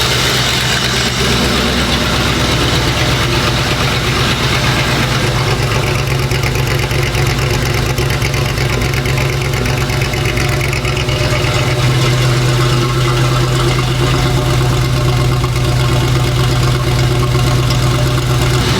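An early Ford Bronco fitted with new headers and a new exhaust idles steadily, a loud, close, even rumble that holds for the whole stretch with no voices over it.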